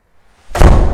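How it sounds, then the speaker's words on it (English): A self-closing fire door swings shut and latches, a single loud close thump after near silence, ringing on briefly. "the doors must close to latch"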